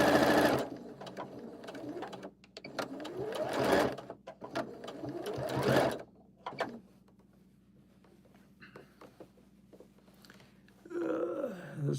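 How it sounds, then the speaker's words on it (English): A sewing machine stitches puppet material in several short, loud runs of rapid whirring, with pauses of quiet handling between them and a final short burst at the end. "I'm just stitching"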